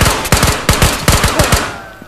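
Rapid gunfire in the shooter game Ghosts of Tabor, a burst of roughly a dozen sharp, loud shots in quick uneven succession that trails off at the end, close and with no voices over it.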